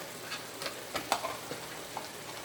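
Sofrito sizzling softly in a pan while being stirred, with quiet scraping strokes and small crackles over a faint steady hiss, no voices.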